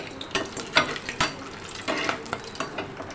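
Chana dal frying in ghee in a pan, with a soft steady sizzle broken by irregular scraping and stirring clatters of a spoon against the pan, close up and alone.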